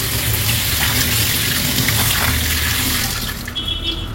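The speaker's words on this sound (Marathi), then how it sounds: "आता आपण काय करणार आहे, पहिल्या प्रथम आपण हे स्वच्छ धुवून घेणार आहोत।" Running tap water splashes continuously over vegetables for pav bhaji being washed in a kitchen sink, a steady close hiss that eases slightly toward the end.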